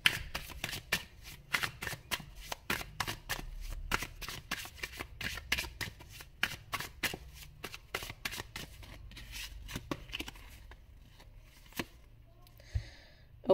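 A tarot deck is handled and shuffled close by, giving a quick rhythmic run of riffling and snapping card sounds that thins out into a few sparse taps near the end.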